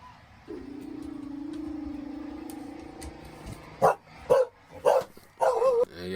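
Dogs bark loudly outdoors in a rapid burst of about five sharp barks, following a low steady hum near a vehicle.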